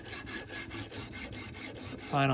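A knife drawn across a 4000 to 6000 grit whetstone for a high-grit finish, about a dozen even rhythmic rasping strokes close up, ending as a voice begins.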